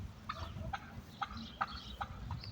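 Turkeys gobbling with chickens clucking nearby, several sharp gobble bursts spaced through the clip over a steady low rumble from the farmyard.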